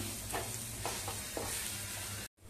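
A spatula stirs a potato patty spice mixture in a sizzling pan, giving steady frying crackle with a few soft scraping strokes, close and alone, before a brief cutoff.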